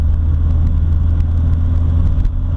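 A 1979 VW Rabbit with a 1.6-litre, 52-horsepower diesel engine drives along in third gear, giving a steady, loud, low engine drone and road rumble that stays constant throughout.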